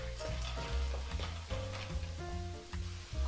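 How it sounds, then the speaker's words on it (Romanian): Vegetables sautéing in a hot pan: a close, steady sizzle and crackle with stirring clatter, while a background tonal melody plays underneath. "Și la fel îi călim pentru 1 minut."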